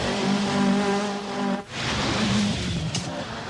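A rear-wheel-drive, normally aspirated Group B Opel Manta rally car driven by McRae roars under power with a strong engine drone, dips briefly, then surges on with rougher road and gravel noise.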